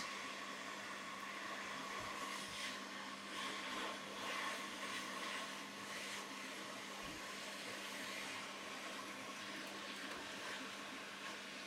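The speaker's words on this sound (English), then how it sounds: "not heat gun, hot air station, and see what happens." A hot air rework station blows steadily onto a DFI Lanparty 790FX motherboard during repair, giving a continuous airy hiss with a faint underlying hum that holds at an even level throughout.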